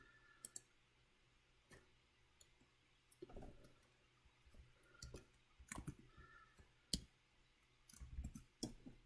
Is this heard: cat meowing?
no